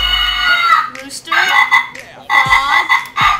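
Croaking frog calls played through an electronic tractor horn PA system, several loud, raspy bursts with short gaps between them, close and alone.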